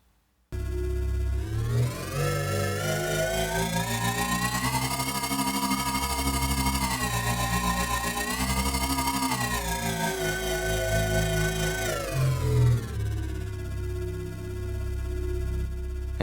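A synthetic air-splitter engine layer for a game hums continuously with heavy tremolo, its pitch rising as it gains speed, holding, then dropping back down, steady and loud with no talking.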